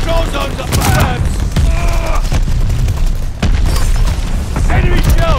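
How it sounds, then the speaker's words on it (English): Shells from incoming enemy fire explode in a Call of Duty: Vanguard match, producing dense, continuous booms and crackling blasts that stay loud throughout with hardly a pause, while voices shout underneath. "Enemy shells coming in hot!"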